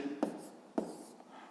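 Pen or marker writing out a sixth-grade math solution, with two brief scratchy strokes standing out over a quiet, soft background.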